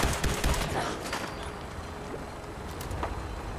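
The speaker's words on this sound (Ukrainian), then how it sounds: "Ще раз стріляємо." Bursts of automatic gunfire in Fallout 4, loudest in a dense rattle at the start and thinning to sparse shots with a distant crack later, no talk over it.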